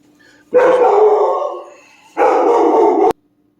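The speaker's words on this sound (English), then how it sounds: "that little interruption, that silly little dog of ours" A small pet dog barks and howls in two long, loud, close bursts of about a second each, separated by a short quiet gap, heard indoors in a kitchen.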